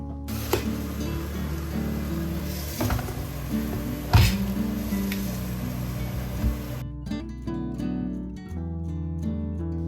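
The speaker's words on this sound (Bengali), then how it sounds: "আগে কটা আলু ভেজে নিচ্ছি ওদিকে" Potatoes fry in hot oil with a steady, loud sizzle, broken by occasional clinks and stirring knocks before the sizzle drops away near the end.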